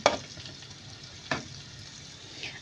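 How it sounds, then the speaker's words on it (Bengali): Chopped ginger and garlic fry over high flame for vegetable fried rice, a continuous close hiss and sizzle with two sharper stirring scrapes early on and a brief spatter near the end, no voices. "এখন এই আদা কুচি আর রসুন কুচিটাকে ভালো করে ভেজে নিব"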